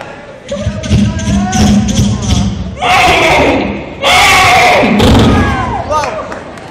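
On stage at a 2011 college fresher party, a performer's voice imitates a horse in bursts of strained, whinnying vocal sounds, with thumps and crowd noise swelling between them.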